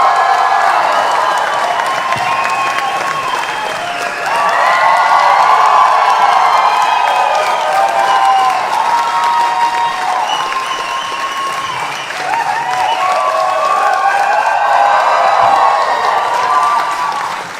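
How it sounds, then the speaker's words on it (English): A press-conference audience for Depeche Mode bursts into loud, sustained applause with cheers and whoops, rising in two big swells over nearly twenty seconds of dense clapping. "I think my applause was bigger."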